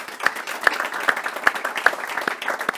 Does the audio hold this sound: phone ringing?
no